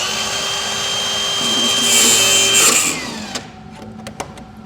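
A Milwaukee power tool whirs steadily for about three seconds while undoing bolts on a Land Rover Defender, then cuts off, followed by a few sharp metallic clicks and knocks close by.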